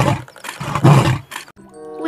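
A lion roars in a toy animal-cleaning game, a loud, rough burst of growling lasting about a second and a half, followed by a brief tonal chime.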